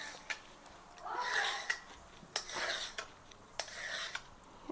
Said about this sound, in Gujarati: પછી આમ શક્કરપારા પાડતા જવાના